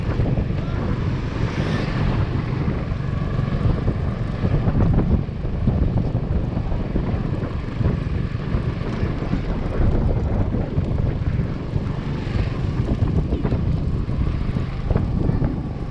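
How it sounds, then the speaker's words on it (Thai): A motorcycle rides slowly along a rural road in Chiang Rai, giving a steady low engine drone mixed with heavy wind rush across the microphone throughout. "เดี๋ยวขี่มอเตอร์ไซค์ไปช้าๆ"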